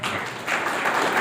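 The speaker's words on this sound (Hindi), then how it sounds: "जोरदार तालियों के साथ" A Republic Day program audience of the Samarpan Sanstha gives loud applause for a speaker, a dense, continuous wash of clapping that stays strong throughout the brief moment.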